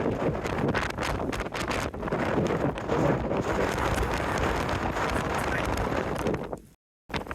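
Strong gusty wind roars across the microphone on Hadrian's Wall during Storm Lilian, loud and continuous with buffeting blasts, cutting out briefly near the end.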